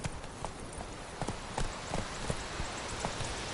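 Horse hooves in The Witcher 3 clip-clop in an even walking rhythm, close and moderately loud over a soft ambient background.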